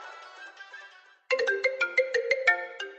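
Mobile phone ringtone for an incoming call: a soft melodic tone fades out, then after a short gap a loud, close series of bright, rhythmic chiming notes repeats about eight times, with no talk.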